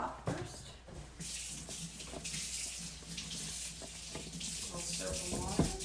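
Water running from a kitchen sink tap while a pan is washed with soap, a steady splashing hiss with clinks and shifting flow, close by, and a voice speaks briefly over it.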